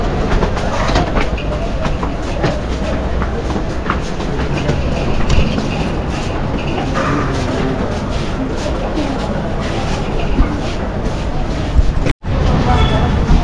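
Railway station ambience at Jammu Tawi, with trains and rail cars producing a steady rumbling, clattering din throughout, a crowd murmur and voices mixed in, briefly cutting out near the end before resuming.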